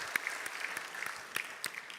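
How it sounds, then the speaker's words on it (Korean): A church congregation at a Sunday worship service claps, faint and distant, with scattered claps over a quiet room. "하나님께 영광의 박수 올려드립니다"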